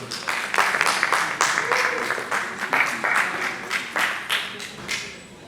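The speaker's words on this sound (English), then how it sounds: "Please, let's clap for them." A symposium audience at a fire-safety quiz claps for contestants, a moderately loud burst of hands with distinct uneven claps standing out through the crowd's applause over several seconds.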